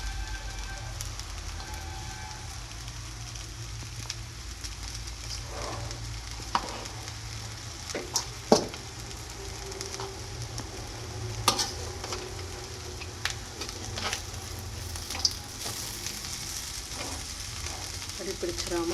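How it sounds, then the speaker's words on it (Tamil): Boiled cowpea sundal with coconut being stirred in a hot pan, a steady crackling sizzle broken by scattered scrapes and taps of the spoon, close and fairly quiet with no talk. "வேக வச்ச சுண்டலை இதில் ஆட் பண்ணிவிட்டு நம்ம நல்லா ஒரு டைம் நல்லா கலந்து விட்டுறலாம்."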